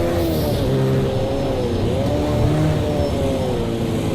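Loud, steady video game race car engine drone with a rising and falling pitch, a sustained mechanical whine heard continuously from outside.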